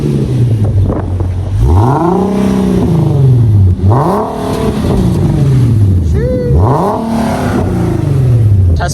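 Revs from a Nissan VQ V6 engine fitted with a resonator exhaust: three sweeping rev climbs and drops that sound loud and close. Voices talk faintly underneath.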